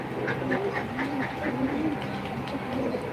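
Pigeons cooing in a loft, a steady run of low, throaty coos repeating close by over a constant hum of background noise.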